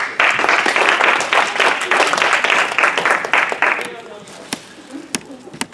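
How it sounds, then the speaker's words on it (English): A crowd applauds loudly and steadily for about four seconds, then the clapping thins out to a few scattered claps. "Let's give them a round of applause."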